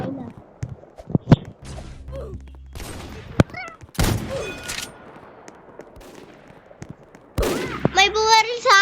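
Gunfire in a video game, sharp shots and short bursts scattered between quieter stretches, with footsteps and other game effects in between, and a voice talking over parts of it.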